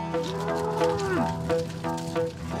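Hardy, rustic Normandy dairy cows from La Hague moo outdoors, a few drawn-out calls close by, one rising and falling.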